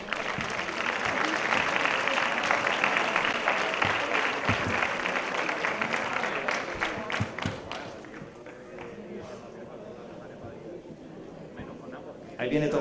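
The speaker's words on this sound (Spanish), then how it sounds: "Ese aplauso para él, ahí está." A crowd at a sports awards gala applauds as a winner goes up, steady loud clapping for about eight seconds that then fades to scattered claps and murmur, with a voice talking over it.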